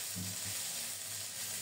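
Crushed ginger frying in hot oil with dried red chillies, panch phoron and bay leaves, a soft continuous sizzle at low level with faint stirring, no voices.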